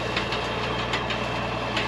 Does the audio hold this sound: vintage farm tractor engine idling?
yes